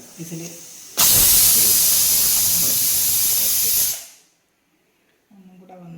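A pressure cooker of sambar lets out a loud, steady jet of steam for about three seconds before it tapers off, with a voice speaking briefly before and after.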